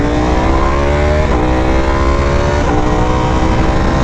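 Aprilia RSV4 Factory V4 sport motorcycle engine running at steady high revs on the road, a loud continuous drone with a couple of brief shifts in pitch, close by and with no talking over it.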